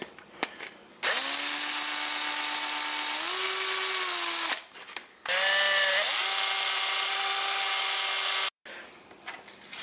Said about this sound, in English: You can also put the pipe in the drill itself, and then grab some sandpaper, and then file off the bit that the saw made.